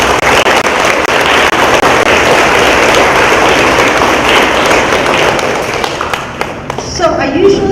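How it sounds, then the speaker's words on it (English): Crowd at a 5th grade promotion ceremony applauding parents, family and friends, a loud, dense round of clapping that fades near the end as a voice begins speaking. "So give them a round of applause."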